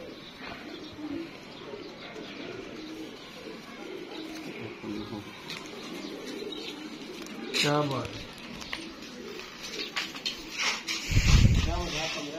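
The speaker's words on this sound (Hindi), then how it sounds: "ये माशाल्लाह जी कबूतर चेक करें दोस्तों" Pigeons cooing inside an 11 by 11 room, soft repeated throaty coos under a voice talking, with chirps and shuffling and a louder burst of bird noise near the end.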